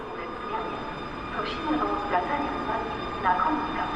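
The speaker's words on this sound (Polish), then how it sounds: "Skład rusza punktualnie." A passenger train, EU 16002, pulls away from Warszawa Zachodnia station in winter ice with a steady low rumble and faint wheel squeals. Voices talk over it throughout.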